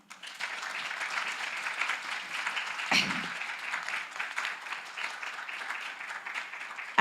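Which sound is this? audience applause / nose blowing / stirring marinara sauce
audience applause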